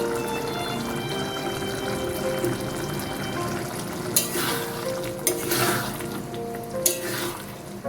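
Taro root pieces fry with cumin powder and spices while being stirred, a steady sizzle underneath with bursts of scraping and bright spluttering in the second half.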